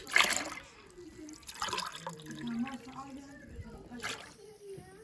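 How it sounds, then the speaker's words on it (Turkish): Water poured into a pot already holding milk while making syrup for Turkish flour halva, with soft splashing trickles in a few short pulses, heard faintly alongside someone speaking. "2 su bardağı da su ilave ediyoruz."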